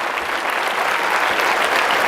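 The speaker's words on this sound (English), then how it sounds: "All of this applause is for these guys." A crowd at a stage hypnosis show applauds the volunteers just woken from trance, giving a brief burst of full, even clapping that stays loud and dense from start to finish.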